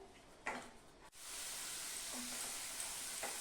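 Ginger, garlic, green chilli and onion paste frying in a pan for a Bengali katla fish kalia, starting with a few soft stirring scrapes, then a lid lifts and a steady close sizzle takes over, with occasional spatula scrapes.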